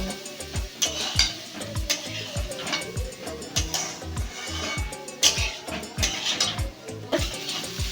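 A spoon scrapes and stirs rice and chana dal frying in a pan at a steady rhythm, with a soft sizzle beneath the repeated knocks.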